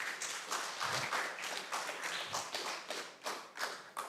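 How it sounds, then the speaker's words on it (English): Scattered audience applause for students at a national reading competition, a quiet, fairly distant patter of clapping with uneven bursts and taps. "So give yourselves a round of applause."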